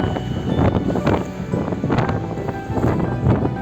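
Strong wind buffets the microphone in rough, continuous gusts at the Nuraghe Gibe Truttiri in Castiadas, with a faint wash of sea in the background.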